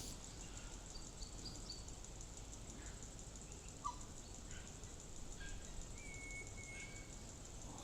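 Faint, scattered bird calls and chirps in bushland at Lane Poole Reserve, over a constant insect-like hiss, distant and sparse, with no voices.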